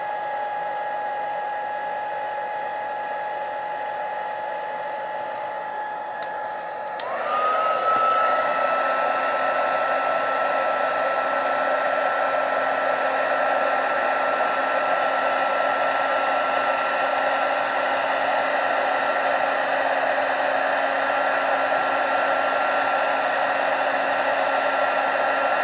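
A heat gun melting embossing powder, with a loud steady blowing whir that shifts pitch and gets louder partway through, then runs on continuously with no talking.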